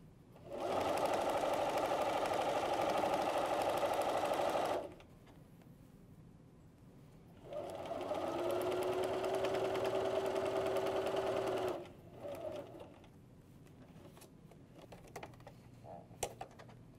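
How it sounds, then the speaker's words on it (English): A sewing machine stitches bias binding onto a potholder in two long steady bursts, close and loud, with a brief pause between them and a few small clicks of handling afterward. "when I'm sewing along here, I want to make sure that my bias bound pieces are laying perfectly flat"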